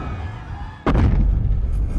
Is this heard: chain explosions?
yes